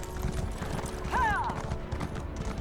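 Horse hooves clop briefly in The Elder Scrolls Online's Morrowind setting, a short run of close, muted steps joined by a quick high chirping tone over a busy game soundscape.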